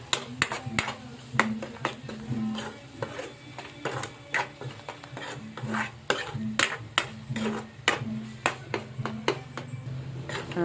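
A spoon stirs an egg bhurji mixture in a pan, making repeated scraping and clinking strokes in an irregular rhythm over a low sizzle, close and moderately loud, with no talking.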